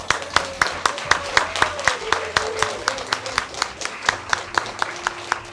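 Applause for newly naturalized American citizens at a citizenship ceremony, a small crowd clapping in a steady rhythmic patter that carries on without pause, with a voice heard faintly underneath.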